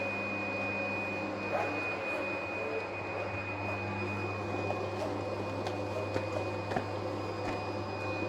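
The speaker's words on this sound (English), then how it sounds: "So what we'll do is we'll just run this one out, and then we'll stop the machine" A PFI Blade B2+ automatic cutting plotter runs a creasing and cutting job, making a steady mechanical hum with a constant high whine and faint ticks of moving parts throughout, with no voices.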